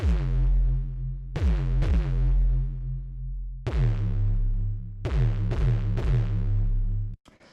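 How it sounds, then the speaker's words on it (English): A deep synthesizer bass plays a handful of plucky notes, each decaying after a sharp attack, in a slow uneven rhythm, loud and close. "So next sound I'll show you is the bass"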